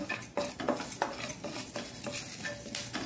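Curry leaves roast in a spoonful of oil over a low flame, with a gentle sizzle broken by repeated light clinks and scrapes of a utensil against the pan, close and without speech.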